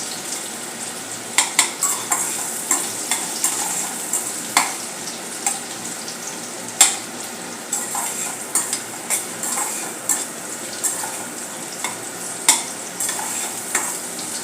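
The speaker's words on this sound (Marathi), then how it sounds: "कांदा आपल्याला चांगल्यापैकी तळून घ्यायचा आहे" Finely chopped onion frying in a pan of crackling mustard seeds while a utensil stirs it, giving a steady sizzle punctuated by repeated sharp scraping clinks of metal against the pan.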